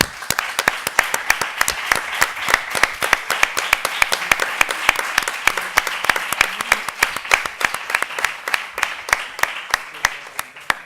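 Audience applause at a university colloquium on sexual and affective diversity, a steady, fairly loud stretch of brisk clapping with a few sharp, prominent claps standing out, sustained throughout with no voice over it.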